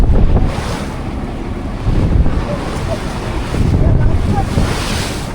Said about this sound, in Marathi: वारा पण जाम सुटला आहे. बोट पण हालते भरपूर आहे.